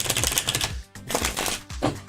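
A deck of tarot cards is riffled and shuffled close up in quick, dense flurries, broken by a brief pause, then two more rapid bursts of crisp card flutter.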